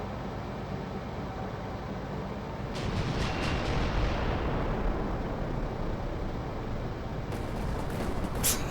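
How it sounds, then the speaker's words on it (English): Heavy carrier gun firing in the vehicle-combat game Carrier Command, a dense roaring barrage of booming blasts that swells after a few seconds and rumbles on steadily, loud and broadband with no voices. "Fire the carrier gun."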